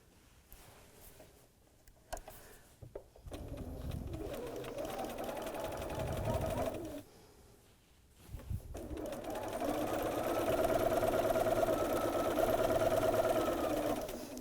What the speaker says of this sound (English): So we'll just sew this with 1/4 of an inch seam allowance.